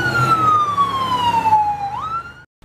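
A blue police car's siren wails loudly nearby with a long falling tone that sweeps back up, over a rumbling engine, then cuts off abruptly.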